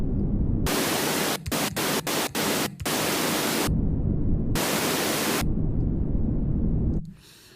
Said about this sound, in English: if I rotate Control A, what happens is it changes this from a low pass filter to a high pass filter, so we only get the high frequency part of the noise